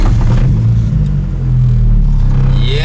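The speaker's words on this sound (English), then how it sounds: "let's start the Civic up." A Honda Civic with a swapped-in B18 engine fires up close by, a loud low rumble that settles into a steady idle and rises slightly at the end.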